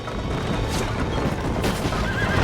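A horse in the video game Red Dead Redemption neighs loudly over a dense, continuous rumble of background noise.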